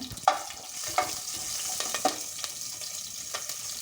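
Mustard seeds, cumin, urad dal and green chili crackle in hot coconut oil in a pan, a steady close sizzle broken by a few sharp pops and clinks of stirring near the start.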